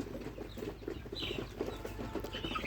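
Desi chickens on a small farm cluck softly and repeatedly, with short scattered calls over a steady low background hum, fairly faint and with no talk.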